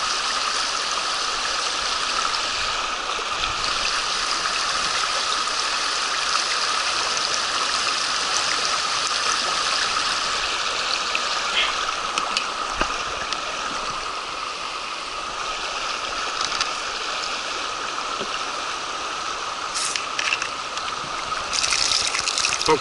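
Steady rushing and trickling of a mountain stream near a river's upper reaches, continuous and fairly close, with no voices over the flowing water.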